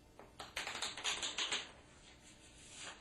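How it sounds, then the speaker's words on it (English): Playing cards being riffle shuffled from two piles, giving a quick close burst of fluttering, ticking card snaps that runs for about a second and then fades to quiet room noise. "So then you take the 2 remaining piles and you riffle shuffle them."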